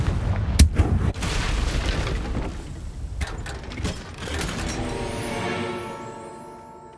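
A Confringo spell blast in the video game Hogwarts Legacy: a sharp, loud crack followed by a heavy rumbling boom, then layered mechanical rattles and a long, gradually fading ringing tail.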